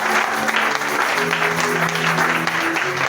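A church congregation applauds to acclaim the Lord: about three seconds of dense, steady clapping from a sizable crowd. Voices and a sustained musical tone carry faintly underneath.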